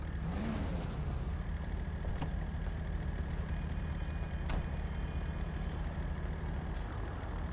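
A truck rumbles nearby with a low engine drone, punctuated by a few short sharp air-brake hisses.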